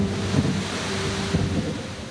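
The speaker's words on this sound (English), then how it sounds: "And then the rains came." Heavy rain with low rumbling thunder, a dense, loud wash of noise with soft deep rolls swelling and fading beneath it.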